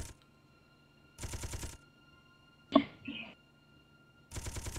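Automatic turrets in Space Engineers fire in two rapid bursts, one near the start and one at the end, each a dense rattling volley; a short sharp impact sounds in the quiet gap between them.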